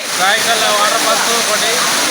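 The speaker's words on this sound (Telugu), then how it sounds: "రాయకల్ జలపాతం పర్యాటకులను ఆకర్షిస్తోంది" The Rayikal waterfall near Bheemadevarapalli pours in a steady, loud, broadband rush of falling water, continuous throughout, with faint voices of visiting tourists mixed in.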